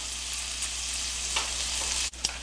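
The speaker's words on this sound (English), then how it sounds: "And we've already got him sizzling. Okay, and we'll just give that a few minutes and let that bacon brown up" Bacon sizzles steadily in a hot pan, a dense, even crackle that stays close and loud throughout, with a brief dip and a couple of small pops near the end.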